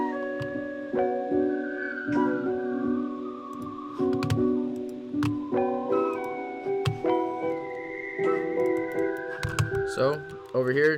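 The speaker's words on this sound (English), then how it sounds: "I went ahead and added this flute right here." A flute sample plays off the grid in an FL Studio beat for a western-style track, with breathy melodic notes drifting over a light ticking percussion loop. It is steady and moderately loud.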